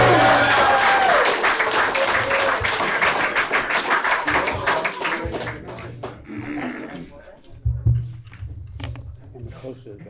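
An audience at a Heroin Anonymous meeting in Seattle applauds to welcome the speaker, with loud sustained clapping that gradually thins and fades, while a voice talks over it near the end.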